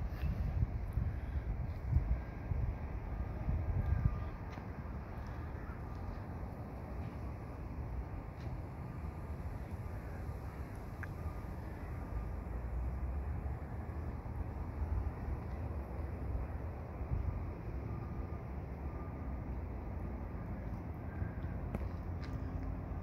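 Steady outdoor wind in Colorado Springs, a continuous broadband rush buffeting the microphone with low rumbling gusts, strongest in the first few seconds, with no talk.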